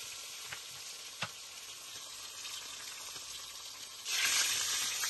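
Chili peppers frying in a pan, a steady broadband sizzle with a few soft clicks and stirring bumps, swelling louder near the end as the fry intensifies, no voices.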